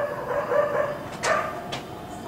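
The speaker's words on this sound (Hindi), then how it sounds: "कुत्ते किसको देख के भौंक रहे हैं?" Dogs bark in the distance, a few faint, separate yelps rising over a low, hissing background outdoors.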